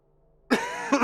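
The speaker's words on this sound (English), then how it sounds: "I was making myself laugh, and that makes me cough" One sharp cough from a person who has been laughing, close and loud after a moment of quiet, followed by a couple of quick smaller coughs.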